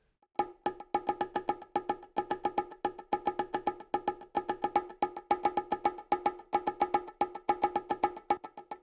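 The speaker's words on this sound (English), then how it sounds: "let's start with this bongo sound that without the energy banner sounds like this" Dry, unpanned bongo drums play a fast, busy pattern of sharp, close hand strikes in repeating rhythmic groups, fairly quiet overall and with no voices over them.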